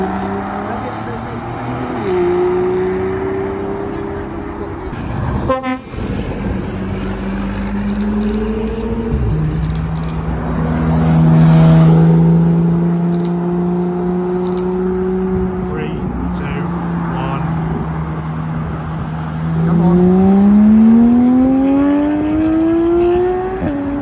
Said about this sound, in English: Aston Martin DBS. The proper one. The naturally aspirated V12.